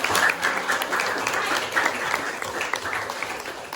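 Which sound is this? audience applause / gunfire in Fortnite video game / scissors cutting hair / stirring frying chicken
audience applause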